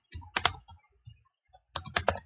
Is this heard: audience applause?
no